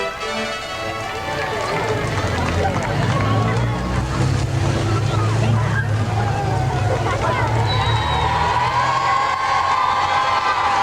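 A crowd of about 2,000 cheers and shouts to greet Queen Elizabeth in Paisley in 1998, a steady loud outdoor roar from many voices, children among them, holding throughout with wind noise.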